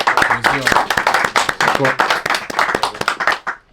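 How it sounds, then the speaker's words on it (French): Quick, sharp hand claps rattle off close and loud in an irregular burst, mixed with a talking voice over the claps. "Écoute, frère, j'applaudis, bravo"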